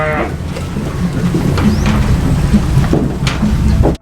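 Sheep on a farm bleat repeatedly while feeding at midday, several short calls rising over a dense, noisy outdoor background.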